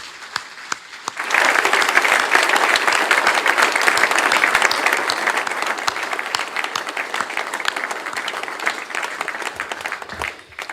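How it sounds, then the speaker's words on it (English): A long, full round of applause rises suddenly from a gathered crowd at a memorial for a friend, steady and dense for several seconds before slowly thinning toward the end. "let's everybody put your hands together and let's give a big round of applause"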